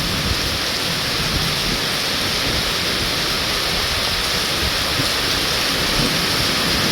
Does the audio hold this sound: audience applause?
no